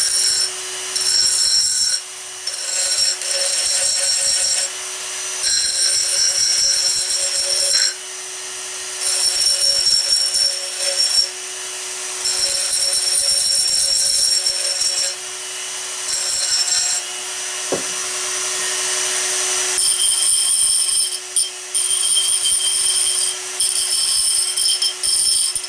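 A sander grinds the rough edges of a cut glass bottle, a steady loud abrasive whine running in bursts with brief pauses between passes, close and alone without talk.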